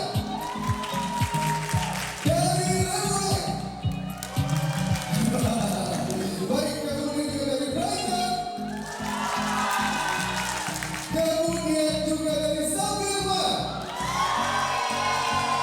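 An audience at a residential property product knowledge event claps and cheers in repeated bursts, with whoops rising over the applause while an announcer keeps talking over it.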